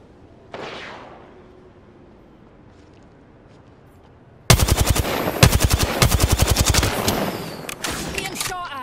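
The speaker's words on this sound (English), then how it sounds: "Being shot at." Apex Legends gunfire, loud and close: after a quiet stretch with a faint distant shot, rapid automatic bursts erupt and keep rattling for several seconds.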